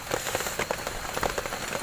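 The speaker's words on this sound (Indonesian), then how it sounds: "karena cuaca hujan saja ini" Rain falling in a forest during an overnight camping trip, a dense steady patter of drops with scattered sharper taps close by, continuous and fairly loud throughout.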